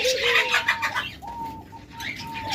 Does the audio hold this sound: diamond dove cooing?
yes